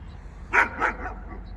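A dog barks twice in quick succession at close range, followed by a softer trailing yelp, over a low steady background hum inside an RV on a freezing day.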